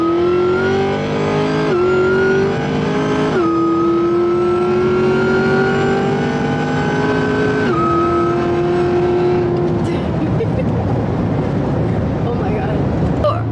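A loud 820-wheel-horsepower car engine revs repeatedly, pitch climbing through several gear shifts before dropping off into rumbling, roaring noise.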